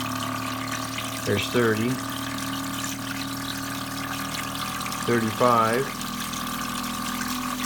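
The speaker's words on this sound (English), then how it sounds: "Really pumps the water out there." A SunSun HW-5000 canister filter pumps water with a steady, continuous whirring hum and flowing rush, while someone speaks briefly over it twice.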